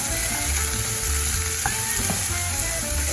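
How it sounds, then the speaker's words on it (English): Vegan beefy crumbles stirred into a pan of bolognese sauce that sizzles steadily and loudly throughout, with a couple of brief utensil clinks partway through and no talking. "Now I'm gonna add our beefy crumbles. Just stir that around"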